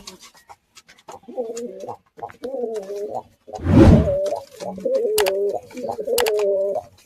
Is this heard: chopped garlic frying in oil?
no